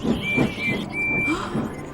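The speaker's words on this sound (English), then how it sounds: "Hang on, I know that whistle." A steam locomotive's whistle in a railway series episode, three thin high tones sounding in a row over busy mixed background noise, fairly distant and not very loud.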